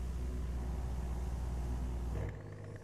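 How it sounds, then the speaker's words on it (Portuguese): Heavy diesel rumble of a Scania V8 truck engine in a truck driving simulator, a steady loud low drone held for over two seconds before it abruptly drops to a quieter, thinner hum. "Tá da hora o barulhão da Scania."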